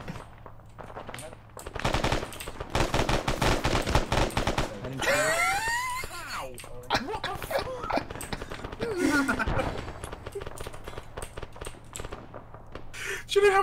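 Video game gunfire in Arma: dense rapid bursts of automatic weapon fire followed by scattered shots and other in-game sounds, with people talking over the action.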